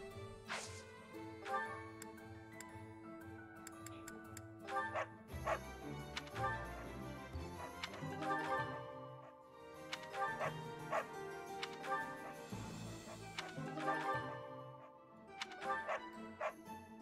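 A dog in the video game Fire Emblem Three Houses gives repeated short barks and yips, faint and intermittent over game music, while a person talks quietly at times.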